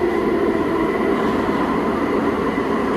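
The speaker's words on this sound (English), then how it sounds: "I made it to the old train station and the train is coming up." Old passenger train pulling into a historic station on an Ottawa line, a steady loud rumble of wheels and rail noise filling the whole stretch without pause.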